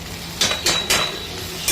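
A lid placed on a metal pan of soybean chilli: three quick metallic clanks in succession, close and fairly loud, followed by a faint ringing tone and a final clink.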